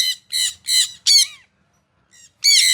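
Birds being released to fly give a series of loud, harsh squawks, four close, rapid calls, then a pause, then faint cries and another loud squawk, with nothing else audible.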